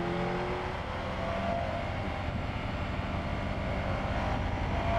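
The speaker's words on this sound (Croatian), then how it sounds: "motor ide ko lud" A Moto Guzzi Stelvio motorcycle engine revs and pulls steadily up close, a loud continuous roar with a slight rising pitch and no talk.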